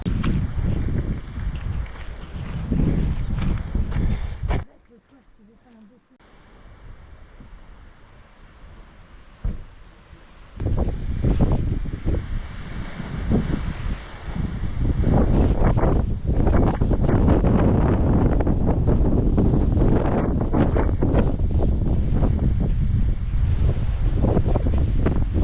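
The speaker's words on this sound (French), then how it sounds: "il y a du vent" Wind blows hard during a hike in Norway, roaring against the microphone in long gusts with a brief lull near the start before building back to a loud, steady rush.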